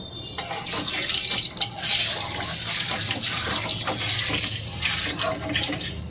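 Water poured over bitter gourd in a kitchen sink or bowl, making a steady, close rush and splash that runs without a break for about six seconds, with no talking.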